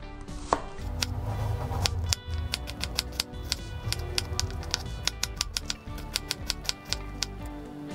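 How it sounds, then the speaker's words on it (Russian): A knife chops onion into small cubes on a board in a home kitchen while pork ribs fry in a pan, giving a steady run of sharp, close, rhythmic taps over a low background sizzle. "Лук нарезаем мелкими"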